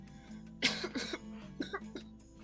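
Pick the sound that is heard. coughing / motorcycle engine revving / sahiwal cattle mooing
coughing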